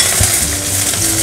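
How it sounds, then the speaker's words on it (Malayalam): Mustard seeds and small shallots sizzle steadily in hot oil for a green gram curry, a dense close frying hiss with light stirring and no talk. "എണ്ണ ചൂടായിട്ടുണ്ട്, നമുക്ക് കടുക് ഇട്ട് കൊടുക്കാം. നമുക്കിതിലേക്ക് ചെറിയ ഉള്ളി ഇട്ട് കൊടുക്കാം"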